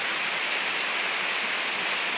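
Steady rain pours down outdoors beside a fruit tree during a passing storm, a dense, even hiss of drops that stays constant throughout.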